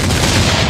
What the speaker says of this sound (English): Tampa Bay Buccaneers, fire those cannons.